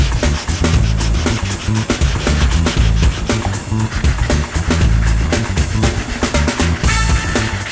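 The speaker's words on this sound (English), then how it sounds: "Now you see, I'm just sanding the sag." Wet sanding of a paint sag on a car with a soft pad and mildly soapy water, a continuous rapid back-and-forth rubbing scrape, close and loud, with no one talking.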